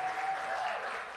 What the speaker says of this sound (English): I want everyone to give a warm applause to everyone who performed this evening.